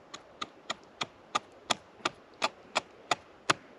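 A Gransfors Bruks forest axe chops wood with about eleven sharp, evenly spaced strikes, each a crisp close thwack over quiet background, steady and rhythmic with no talking.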